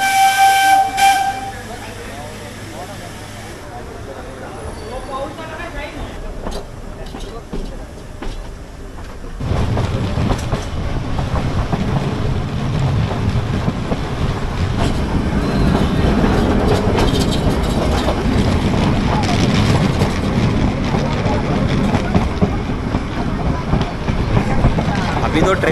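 The Mettupalayam to Ooty toy train pulls out, with a hissing steam whistle near the start. A loud, continuous rumble of the running train builds up and carries on to the end.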